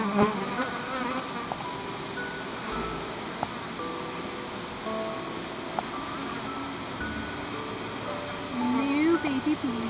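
Honey bees drone steadily at a hive during a spring honey harvest, a dense continuous buzz close by, with soft voices talking over it now and then.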